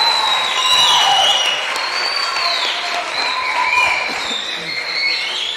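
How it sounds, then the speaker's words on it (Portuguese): A live audience at a church youth camp podcast recording claps steadily throughout, with a dense, sustained burst of applause and some higher whoops or cheers over it. "queria pedir para vocês darem uma salva de palmas de novo pela vida deles"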